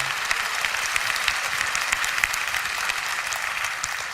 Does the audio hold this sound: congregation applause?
yes